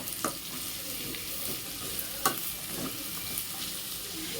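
Sliced capsicum and cabbage sauté in a hot pan for egg fried rice, a steady sizzle broken by occasional scraping stirs and light clatter, with no talk.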